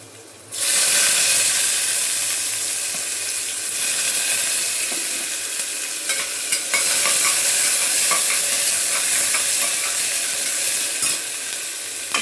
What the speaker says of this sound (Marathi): कांदा टाकते आता.